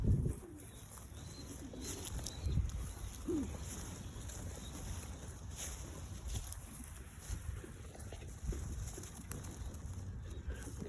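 Pigeons newly added to a backyard loft give low, soft coos scattered across a steady outdoor background with faint wind, moderately distant and fairly quiet, with no talking.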